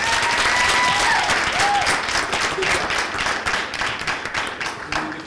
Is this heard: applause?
yes